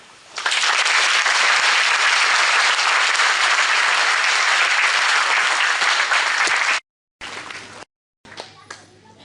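Loud, dense applause fills a gendarmerie school ceremony in Tulle in 2012, sustained for about six seconds before cutting off abruptly, followed by brief fragments of room sound.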